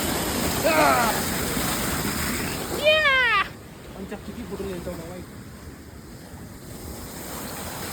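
Water rushes steadily from a traditional Himalayan water mill (gharat) on the Roopkund trek in Uttarakhand, a continuous broadband roar with brief voices and other sounds over it.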